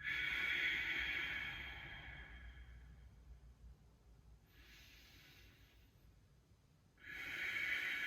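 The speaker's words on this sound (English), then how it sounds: "you can let it really kind of rasp in the breath, in the throat a little bit" Slow, raspy exhalations pushed through the throat during a seated yoga breathing practice, a loud hissing breath at the start, a fainter one midway and another returning at the end, heard alone without talk.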